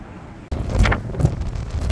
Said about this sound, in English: It's super windy, man.